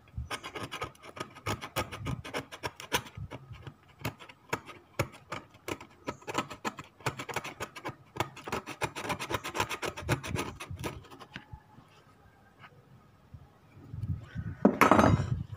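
Continuous rasping scrapes on a Paradium shoe surface, close and fairly loud, in fast, steady strokes for about eleven seconds. It then stops briefly before a final burst of scraping and handling noise.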